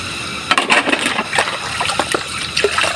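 Water gushes and splashes while dishes are washed, a loud, close, uneven flow with frequent sharp spatters and bursts rather than a smooth stream.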